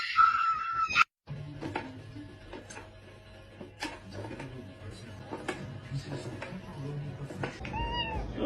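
A house cat meows several times in a row, close and clear, over a quiet indoor room with faint ticking in the background; a brief loud burst opens the sequence.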